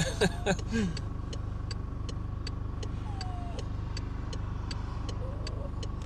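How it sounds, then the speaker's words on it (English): Cars and other motor vehicles pass steadily on a busy road, producing a constant engine and tyre rumble at moderate distance, with a few brief sharp chirps near the start and a faint steady ticking throughout. "Busy road."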